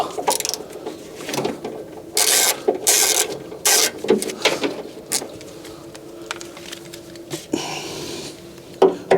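Bolts taken out on a crashed 2011 Fiat 500 Lounge, heard as close metallic ratcheting, clicking and scraping in uneven bursts, with a few sharp knocks.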